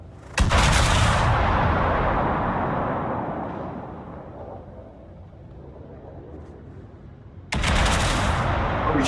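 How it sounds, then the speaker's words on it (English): Heavy naval guns fire HE shells from a warship in World of Warships, two sharp booming salvos several seconds apart, each followed by a long rumbling decay, loud and close. "He's shooting HE at something."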